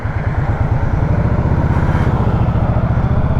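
A 2020 Indian Scout Sixty Bobber motorcycle pulls away under acceleration. The engine gives a loud, steady, rumbling pulse from close by, with no talking over it.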